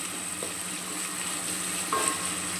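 Tomatoes sautéing in a pan for vegetable pulao with onions, a steady soft sizzle and frying hiss with a faint clink of a spoon against the pan, no talking.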